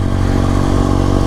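Aprilia SX 125 motorcycle engine revving loudly up close, a harsh, buzzing single-cylinder roar held steady with a rapid pulsing thrum and no talk over it.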